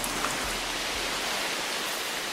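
Steady rain falling over the Amazon rainforest, a dense, even hiss of drops on foliage that fills the scene without pause at moderate loudness.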